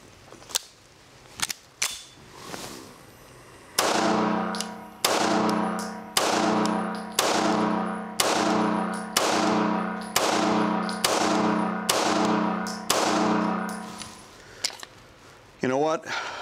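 A Springfield Armory XD pistol fitted with Springer Precision parts fired outdoors, a few loose shots and then a steady string of about ten sharp, loud cracks at even intervals.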